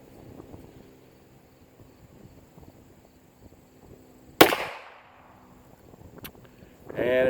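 An ISSC M-22 pistol fires a single sharp, loud shot midway through, with a quick decaying echo; a quieter background hum runs throughout, and another burst of noise comes at the very end.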